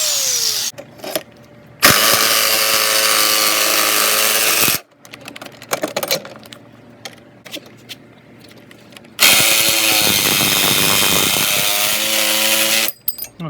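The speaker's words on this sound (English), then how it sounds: "I'm going to try using my angle grinder in order to make a opening for my blade" An angle grinder cuts an opening in the metal body of a Sprinter van, with two long, loud, high whining grinding bursts separated by quieter handling knocks and pauses.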